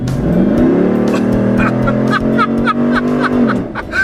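A 2013 Jeep Wrangler's 6.4-litre HEMI V8 engine roars loudly at full throttle, revving up steadily and holding a deep, droning pitch before easing off.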